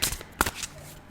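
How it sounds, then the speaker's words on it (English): Tarot cards shuffled by hand in a brief burst of papery riffling and flicks, close and fairly soft, with faint room noise and no talk over it. "I will start to shuffle as I talk."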